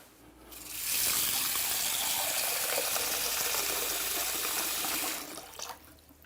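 Cold tap water gushes steadily into a pot of basmati rice, a loud close hiss that starts abruptly, runs for about four seconds and then cuts off.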